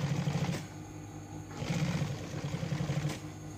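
A sewing machine stitches leather for a 4-stroke rickshaw hood, running in steady close bursts of rapid mechanical chatter with short pauses between runs.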